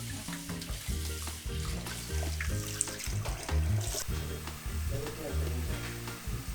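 About 2.5 litres of water runs into a pan holding cleaned fish, a steady splashing pour heard close, with soft clinks and some background music.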